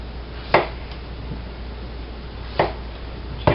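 A knife cuts the rind off a hard squash with three sharp, close chops spread across a quiet, steady background hum.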